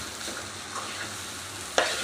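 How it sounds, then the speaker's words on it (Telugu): Chana dal tempering for prasadam is stirred in a hot pan, giving a continuous close sizzle and a sharp spoon scrape near the end. "ఇలా బాగా మిక్స్ చేసేసుకోవాలండి."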